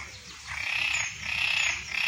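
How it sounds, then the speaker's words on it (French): Frogs calling near a lotus pond, a steady high-pitched chorus of chirping calls that swells and continues without talk. "Il y a des grenouilles ici."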